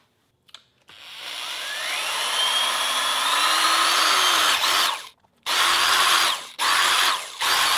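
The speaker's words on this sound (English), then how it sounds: "I'm going to use a drill" A power drill bores holes through a plastic cap, starting with a brief buzz, then a long whining run of several seconds, followed by two shorter bursts with pauses between, loud and close.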